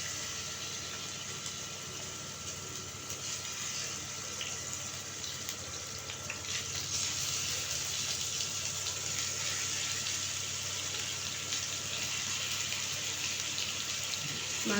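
Pieces of pangas fish are frying in hot mustard oil, making a steady, even sizzle that hisses continuously at moderate loudness without any talk.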